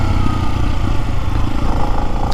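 A Lifan X-Pect motorcycle engine running close and loud with a steady, rough mid-pitched drone, slightly uneven as it surges, with no talking.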